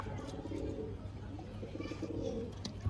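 Pigeons in a Bangladeshi pigeon keeper's loft coo softly in low, rolling phrases, faint and close, with quiet background voices.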